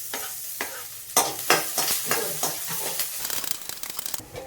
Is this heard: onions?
yes